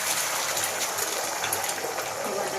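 Beaten egg poured into hot oil in a wok gives a continuous loud gushing hiss, steady and close for the whole moment with no talk.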